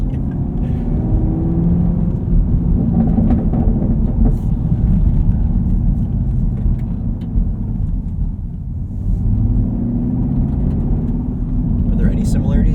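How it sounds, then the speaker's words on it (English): A 2023 Chevrolet Camaro 1LT with a 3.6L V6 and manual gearbox, exhaust in sport mode, drones with a heavy, steady low rumble from inside the cabin, swelling slightly and easing off as it drives. "We have the exhaust set to sport mode"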